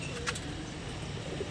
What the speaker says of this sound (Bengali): ডাবল গিয়ারের দোপাস কবুতর